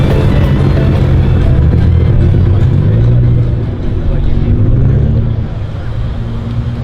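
Cars roll into a Cars & Coffee meet, engines rumbling low and close with a few rising revs, then easing off as the vehicles pass by, with faint voices in the background.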